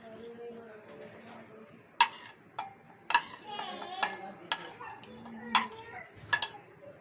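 An egg mixture with onion for an omelette is mixed in a tall container, with a utensil clinking and scraping against the sides in irregular close strokes, a few sharp knocks standing out.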